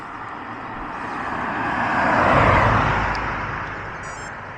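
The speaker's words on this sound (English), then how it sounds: "the last road was a bit too noisy with traffic" A car passes on a mountain road near Sa Calobra, a smooth swelling roar that rises to a peak midway and fades away, with steady road hiss throughout and no voices.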